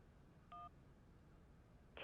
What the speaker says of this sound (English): we got a little phone call.